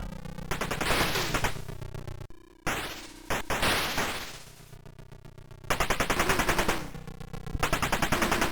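Rapid electronic twin-shot fire from the arcade shooter Exerion, a dense stream of repeated blasts and bursts that stays loud and busy throughout, layered with game music and effects and no talking.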